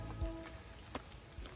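Rain pattering on a hammock tarp during a wild camp in Greater London, a faint steady patter with a few louder individual drops.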